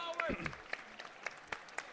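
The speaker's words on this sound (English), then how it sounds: "So, standing ovation for what's left of the Tala crowd here." Scattered applause from the thinned-out Tala crowd in a sports stadium's main stand after the referee's call, a sparse run of separate claps repeating through the moment alongside a commentator's voice.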